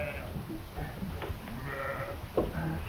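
Several sheep bleat in short, wavering cries on a ranch in an old 1930 Western film, moderately close over a hissy, muffled background.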